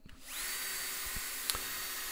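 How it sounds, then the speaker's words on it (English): A power drill bores into a pine 2x4 for a rodent trap, starting with a few knocks and then spinning up to a steady, loud whine that holds unbroken, with a brief clunk midway. "And now we'll just drill it out."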